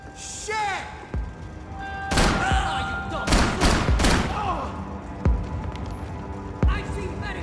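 Several gunshots crack out in bursts during a Max Payne 3 shootout, loud and close, with sharp single reports spaced across the moment over a busy game background and some voices.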